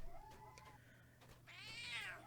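A house cat lets out one clear, rising-and-falling meow near the end, loud and close, after a quieter stretch of faint room noise.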